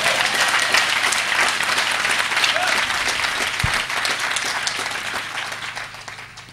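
A church congregation applauds together, dense sustained clapping filling the room close and loud for several seconds before gradually thinning toward the end.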